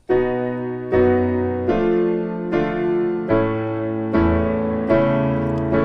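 Piano plays seven sustained chords in a slow, even rhythm, each struck firmly with a low bass note beneath, ringing and fading before the next.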